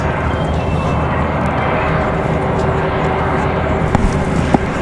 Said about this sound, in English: Ooh, JetBlue, that A320 on the move.